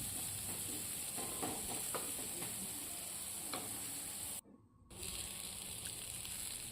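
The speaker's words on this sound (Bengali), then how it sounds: "তো এবার সবগুলো একটু ভালো করে ফ্রাই করে নেব।" Onions fry in a pan with turmeric and chili powder, a steady close sizzle with scraping stirs, briefly cut to silence before the frying hiss returns.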